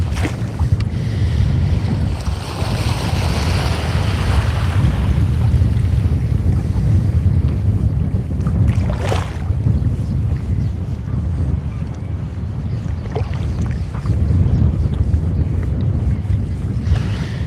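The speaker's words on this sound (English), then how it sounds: "It's getting windier though." Wind buffets the microphone steadily during kayak fishing for bass on open water, a loud, constant roar with a gusty surge partway through and faint water movement beneath.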